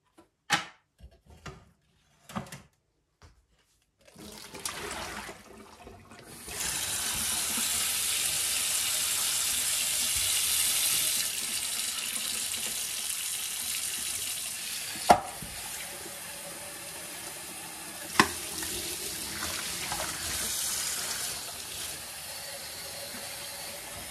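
A kitchen water tap runs steadily while coffee maker parts are rinsed under it, a constant close hiss and splash lasting most of the stretch after a few sharp clicks and knocks at the start, with occasional clunks of parts against the sink.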